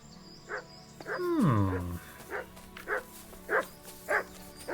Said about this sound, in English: What is it, Mutt? Look what I have for you.